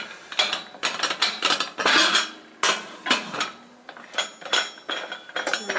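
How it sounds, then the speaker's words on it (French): A pressure cooker lid is shut and locked over a beef bourguignon, giving a quick series of close metallic clanks, clicks and rattles in irregular bursts, with no voices. "on va fermer l'autocuiseur et laisser cuire à feu moyen"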